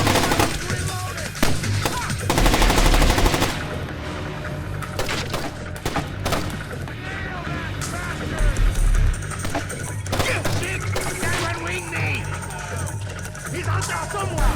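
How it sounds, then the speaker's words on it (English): Gunfire in the video game Splinter Cell: Chaos Theory, repeated loud bursts and heavy impacts scattered through the stretch, mixed with shouting voices and game sounds. "He's taking shots!"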